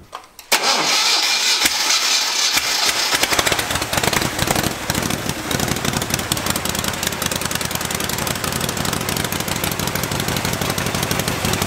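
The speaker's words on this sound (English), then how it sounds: "we're going to start up my Dragon motor" A rebuilt Dragon motor cranks and fires up, then settles into a loud, steady running idle with a fast, rhythmic mechanical chatter and no talking.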